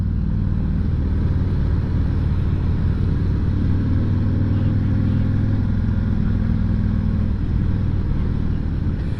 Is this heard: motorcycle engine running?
yes